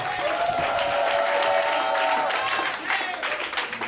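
A church congregation at a Sunday temple dedication service in Koumassi applauds together, a loud continuous wash of clapping that stays steady before thinning slightly near the end.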